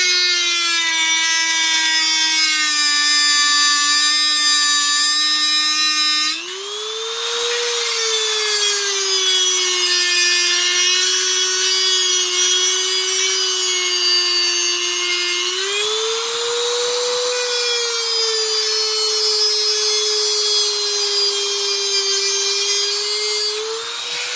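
Power tool cutting into a die-cast Hot Wheels Bugatti toy car, a loud continuous high-pitched grinding whine that dips in pitch twice as the blade bites into the metal.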